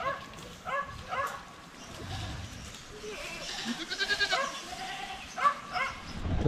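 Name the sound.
goats bleating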